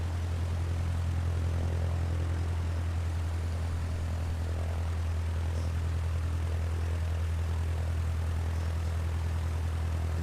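A small Cessna G36 airplane drones in flight from inside the cabin, a steady, loud engine and propeller roar with a strong low hum that holds constant throughout, with no speech.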